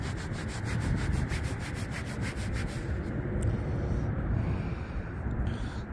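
Steady, close scratchy rubbing scrapes crust off an old George III two-pence coin, a continuous gritty friction sound for several seconds.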